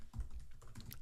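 Quick keystrokes tap out a search on a computer keyboard, a short burst of soft, close clicks in a quiet room.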